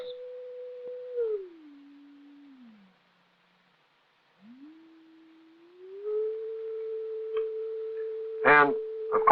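A steady electronic oscillator tone in an acoustics lab dips lower in pitch and fades out, returns after a silent gap, and climbs back to a steady hum, with a few brief knocks and clatter near the end.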